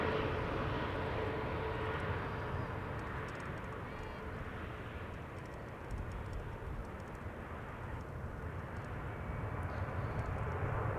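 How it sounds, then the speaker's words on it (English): A Kuwait Airways Airbus A320neo arrives at Amsterdam Schiphol, its engines giving a faint, steady, distant rumble and hiss that holds at an even level throughout. "Kuwait Airways A320neo arriving from Kuwait City"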